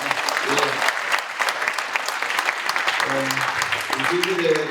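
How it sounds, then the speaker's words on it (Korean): Guests at a Thanksgiving dinner event applaud in a full, steady round of clapping that runs throughout. Voices speak over the clapping toward the end. "다시 한번 박수를 드리겠습니다."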